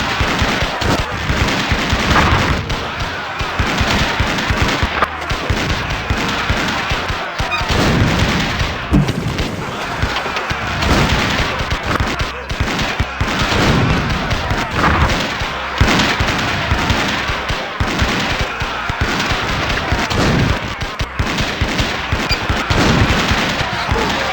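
Relentless gunfire and booming explosions from The Curse of Monkey Island fill the scene, dense and loud throughout with no letup.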